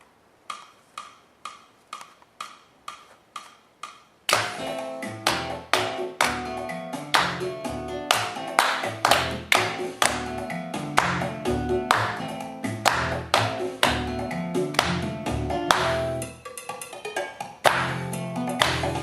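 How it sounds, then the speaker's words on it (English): A student claps a rhythm against a piano track: first a row of sharp solo claps, then claps that keep going on top of a loud, full accompaniment. The pattern stays steady for about fifteen seconds. "Now we go to the clapped rhythm, which is a letter B, so let's try that now."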